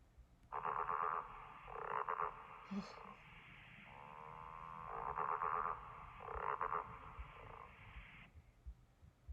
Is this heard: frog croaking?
yes